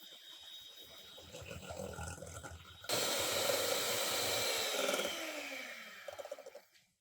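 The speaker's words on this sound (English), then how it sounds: "you whisk double cream until it makes medium peaks" Double cream is whisked toward medium peaks, a faint airy whirring at first that jumps to a loud, steady electric mixer drone, then tapers off and stops.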